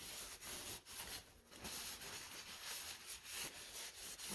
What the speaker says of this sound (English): It's got enough of the sanding there.